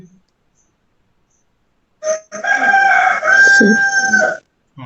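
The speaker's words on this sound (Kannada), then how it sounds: "ಕೋಳಿ ಚೆನ್ನಾಗಿ ಕೂಗ್ತು" A rooster near a house crows once, a loud, clear call lasting about two and a half seconds after a short silence, close and alone with no talk over it.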